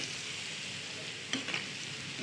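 Soya chunks fry in oil for manchuria, a soft, even sizzle held at low level, with a couple of brief clicks near the end.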